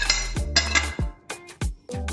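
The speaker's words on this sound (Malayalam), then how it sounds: "ചിക്കൻ കോട്ട് ചെയ്യാൻ വേണ്ടിയുള്ള ബ്രെഡ് കൂടി ഒരു പാത്രത്തിലോട്ട്" Clinks and scrapes of a spoon against a bowl as breadcrumbs for coating chicken are moved in, several short metallic knocks spaced irregularly, close and clear, with no talk.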